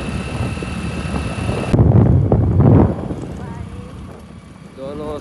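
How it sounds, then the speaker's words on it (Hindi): Cool wind blowing through mountain scenery on a cloudy day, a steady low rushing roar that swells loudest in the middle and eases toward the end, with voices faintly present. "ठंडी ठंडी हवा चल रही है।"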